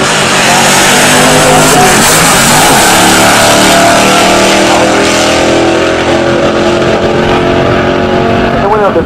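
Pure stock muscle cars, a Studebaker and a Camaro, race down a drag strip with loud, roaring engines revving hard and sweeping past, while an announcer talks over the noise.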